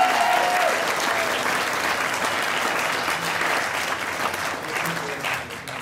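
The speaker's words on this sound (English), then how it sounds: "Give those guys a round of applause." A comedy-show audience claps and applauds in a steady, sustained wash of dense clapping, loud and close, with a brief voice at the start before the applause tapers slightly at the end.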